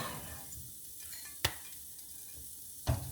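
Cajun sauce for fish cooking in a pan on the stove, heard as a soft, steady sizzle with two sharp clinks of a utensil against the pan, close and with no talk.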